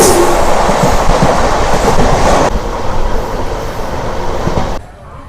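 The Karimnagar–Tirupati weekly superfast express, running with LHB coaches, rumbles and clacks steadily along the track at speed, loud and continuous from inside, then the roar drops abruptly near the end.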